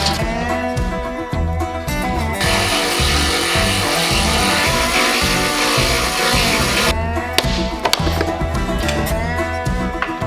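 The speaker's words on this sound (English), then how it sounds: "I need to cut a little tab off of the top of the factory tow hitch" A power tool cuts a small tab off the factory tow hitch on a Jeep Gladiator fitted with a Motobuilt rear bumper, giving a dense, loud grinding-cutting roar that runs steadily for several seconds with mechanical clatter around it.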